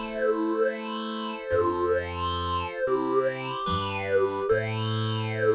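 A sustained synthesizer tone with a rhythmically sweeping pitch, rising and falling in repeated waves over shifting bass notes, no voices.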